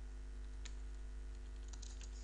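Typing on a computer keyboard while filling in an HTML contact form, a few faint scattered keystrokes over a steady low hum, no talking.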